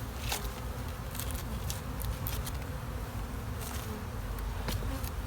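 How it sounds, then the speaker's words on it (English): Honey bees hum inside a fully occupied brood chamber during spring hive management, a close, continuous buzz with scattered louder passes of individual bees and faint tapping. "I can tell it's fully occupied with bees already"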